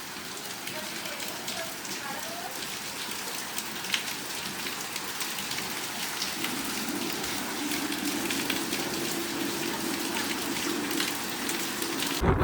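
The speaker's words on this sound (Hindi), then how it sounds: "देखो कितनी तेज़ बारिश हो रही है" Heavy early-morning rain pours steadily onto surfaces outdoors, a loud continuous hiss with scattered drip impacts that thickens and grows louder toward the end.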